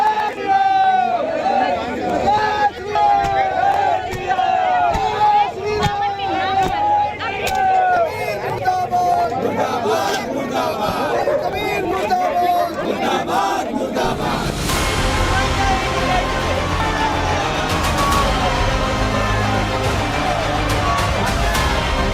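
A street protest crowd in Lucknow chanting slogans, a dense, loud mass of voices with rhythmic shouted calls rising over constant hubbub throughout.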